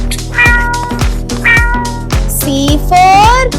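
Loud, close cat meows repeat in a quick series of about five or six calls, some rising and drawn out, with no talking.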